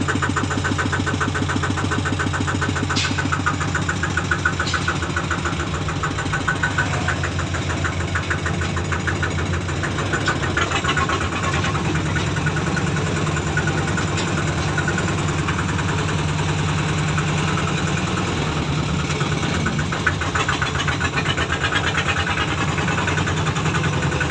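A Thai farm utility truck, a rot e-taen, idles steadily with a continuous low, knocking engine rumble that stays close and loud throughout, with no voices heard.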